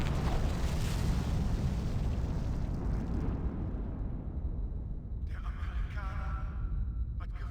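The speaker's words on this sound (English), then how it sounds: "The bomb hit everybody." A bomb explosion in Medal of Honor on PS1, a loud, sustained rumbling blast filling the first few seconds before fading into lighter crackling and debris.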